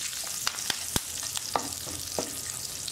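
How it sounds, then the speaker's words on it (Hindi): Asafoetida powder, cumin seeds and curry leaves hit hot oil in a pan, giving a soft, steady sizzle broken by several sharp pops and crackles while being stirred. "जैसे ही तेल गर्म हो जाएगा हम इसमें 1/4 टीस्पून हींग पाउडर, जीरा, कड़ी पत्ता डाल लेंगे और अच्छे से इसे मिला लेंगे।"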